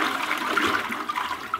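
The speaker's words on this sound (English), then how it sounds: "Flush always in a public restroom before you leave." A toilet in a public restroom flushes, a loud rushing gush of water that swirls on steadily and alone for the whole moment.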